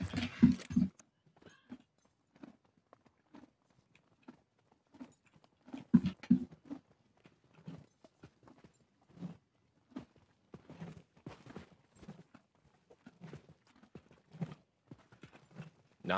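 Horse hooves in the video game Knightfall: Rodeo Drift, sparse, soft clip-clop steps at an uneven walking pace, fairly faint against near silence.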